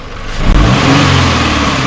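A 2015 Subaru BRZ engine revs up loudly and holds at high pitch, a close, continuous roar with no talking.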